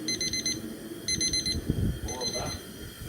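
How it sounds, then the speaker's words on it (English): A digital timer beeps in three rapid bursts of high-pitched tones at the end of a beer-brewing boil, somewhat distant in the background while someone talks over it. "You can hear the timer in the background going off."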